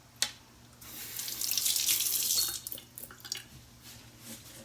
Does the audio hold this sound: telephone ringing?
no